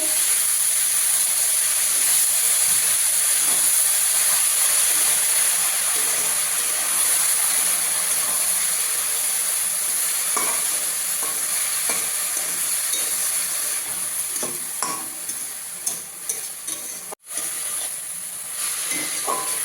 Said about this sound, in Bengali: আর একটু লবণ দিয়ে দিলাম। ভালো করে নাড়াচাড়া করব। শাক থেকে জলটা বেরিয়ে যাবে নাড়তে নাড়তে।